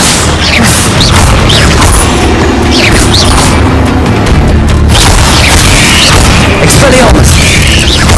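Hogwarts Legacy combat with the Incendio fire spell: loud booming blasts and crashes over dense game effects, with voices shouting intermittently.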